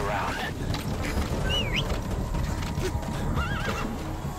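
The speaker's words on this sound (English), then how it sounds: "My horse, my beautiful horse." A horse in Metal Gear Solid V: The Phantom Pain whinnies twice amid steady clip-clopping hooves, the neighs rising and falling over a busy in-game background.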